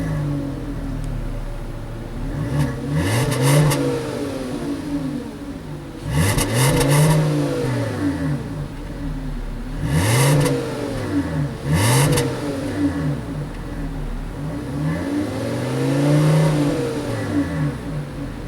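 A 2012 Volkswagen Passat SE engine starts and then revs repeatedly, with four or five distinct rising-and-falling throttle blips separated by a steady idle, heard close and clear.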